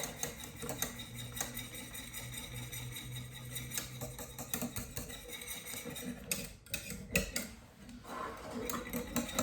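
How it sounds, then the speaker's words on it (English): Seasoning being whisked into a vegetarian bechamel sauce in a pot, a steady run of quick metallic ticks and scrapes with a few louder clinks, close and fairly quiet. "Get that whisked in."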